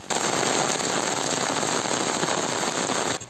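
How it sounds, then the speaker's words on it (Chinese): Heavy rain pouring down in Zhongxing New Village, Nantou, a dense, loud, unbroken roar of rainfall that ends abruptly near the close, with no talk. "南投中兴新村落大水雨"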